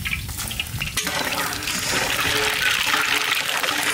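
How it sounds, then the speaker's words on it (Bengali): Dry red chillies and black cumin sizzle in hot mustard oil, used after frying pabda fish, with a loud, continuous crackling hiss that grows a little stronger partway through. "ওই তেলে আমি ফোড়ন দেবো"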